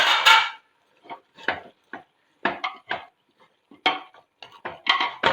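Pork chilli being mixed in a pan, a series of separate scraping and clattering strokes of a utensil against the cookware with quiet gaps between them, close and fairly crisp.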